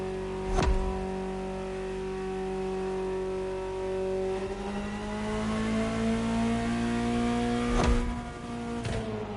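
In the racing video game The Crew Motorfest, a Ferrari engine holds a steady, continuous rev with rising and falling pitch and a couple of brief gear-shift breaks.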